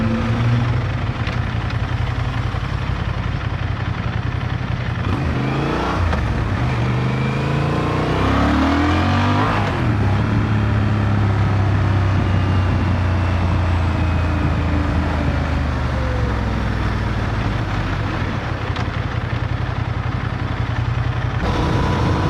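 A 2025 Honda Transalp 750 adventure motorcycle rides on a road with a steady, loud engine drone that rises and falls through gear changes, wrapped in constant wind rush.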